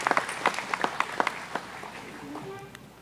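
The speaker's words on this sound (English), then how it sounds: "Please join me in giving this group a round of applause" Applause from an annual cooperative meeting audience, scattered claps that thin out over a few seconds, with a voice murmuring underneath.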